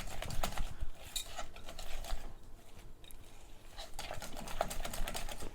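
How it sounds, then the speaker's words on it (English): A whisk beats white pizza sauce made with lemon in a bowl, producing quick, rhythmic clicking and scraping strokes that continue steadily at close range with no one talking. "use your whisk, blend it all in"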